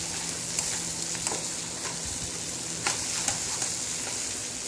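Bitter gourd fries and gets stirred in a pan, giving a continuous bright sizzle with occasional scraping clicks from the stirring, close and steady with no talk.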